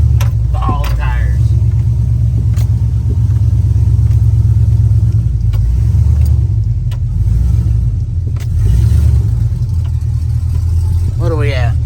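A work truck with its exhaust header dumped runs with a deep, steady, loud rumble close by, while people talk over it throughout.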